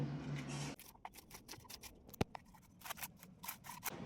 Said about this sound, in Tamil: இந்த மணத்தக்காளி கீரையை சின்னதாக நறுக்கிக்கலாம்.